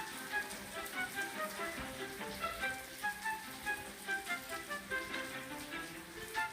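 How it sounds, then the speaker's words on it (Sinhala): Heavy rain falling outside in Minecraft, a dense constant patter of drops under a pulsing, faintly melodic background, loud and continuous. "සද්ද ඇහෙනවා නම් සෝරි මෙහාට හොඳටම වහිනවා."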